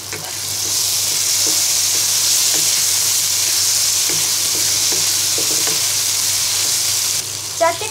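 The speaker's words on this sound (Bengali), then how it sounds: "এবার ঢাকনা দিয়ে ঢেকে মশলাটাকে কষিয়ে নিব।" Masala spices frying in a pan for a Rida fish curry, a loud continuous sizzle and hiss with light stirring scrapes, no talking, a brief dip near the end.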